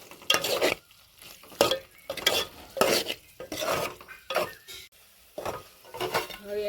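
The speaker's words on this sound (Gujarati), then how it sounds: "હવે આપણે એને હલાઈ નાખશું." Spicy bottle gourd (dudhi) curry is stirred in a pan, a series of close, rhythmic scraping and clinking strokes of a spoon against metal, with a faint sizzle between strokes.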